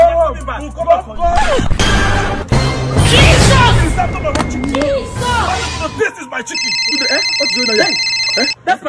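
Mobile phone ringing with a steady electronic ringtone that starts after a noisy stretch of voices and crashing sounds, ringing on clearly with speech overlapping.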